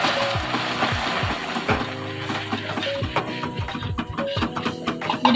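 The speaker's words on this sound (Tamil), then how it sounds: "மிக்ஸ் பண்ணிவிட்டு இப்போ உடனே க்ரீம் ஃபுல்லாக ஊற்றி மிக்ஸ் பண்ணிகிட்டே இருக்கணும்." Cream poured into hot caramel sizzles and bubbles steadily while a utensil keeps stirring it in the pan, a close, continuous frying hiss with scraping strokes throughout.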